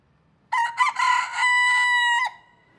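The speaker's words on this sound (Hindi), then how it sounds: "the rooster we thought will not crow" A broiler-variety rooster crows once, loud and close, a long strained call with a sustained ending, alone against a quiet background.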